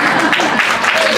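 An audience at a fan convention panel claps. Dense, steady applause mixes with crowd noise and continues without a break through the short span.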